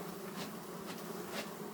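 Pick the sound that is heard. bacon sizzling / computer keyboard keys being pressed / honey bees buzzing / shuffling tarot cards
honey bees buzzing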